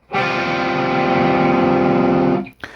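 A single heavily distorted electric guitar chord rings out loud and sustained for about two seconds, then cuts off abruptly.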